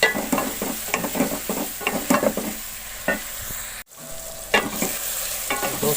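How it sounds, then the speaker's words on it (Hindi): Bottle gourd, tomatoes and onions stirred together in a pan: repeated rhythmic spoon scrapes over a soft sizzle, close and clear, broken by a brief near-silent gap before stirring resumes. "अब इसको हिला देंगे, मिक्स करेंगे ये जो टमाटर थे, ये जो प्याज थे"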